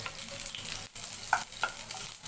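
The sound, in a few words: onions frying in hot oil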